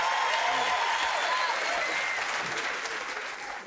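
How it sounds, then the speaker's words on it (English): An audience at a comedy roast applauds in a dense, steady wash of clapping that fades slightly toward the end. "Give him a round of applause."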